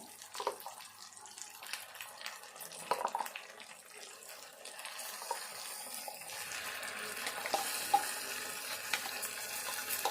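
Chili powder fries with ginger garlic paste in a pan for a Telangana egg curry, a soft close sizzle with scattered stirring clicks that grows fuller and more hissing midway, with no voices.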